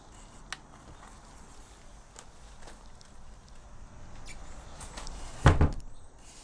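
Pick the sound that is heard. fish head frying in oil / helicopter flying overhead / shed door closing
shed door closing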